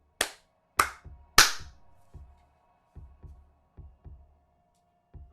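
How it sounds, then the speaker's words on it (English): A few sharp, loud hand claps close by, followed by softer, quicker claps fading in a sparse, uneven rhythm. "Second clap of the stream."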